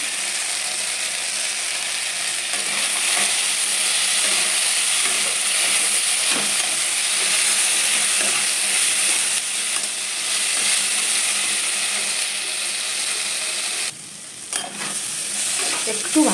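Potatoes frying in a pan with salt and white mixed oil, stirred by hand. A steady, loud sizzle runs throughout, with scraping and ratcheting stir strokes, and a brief dip near the end.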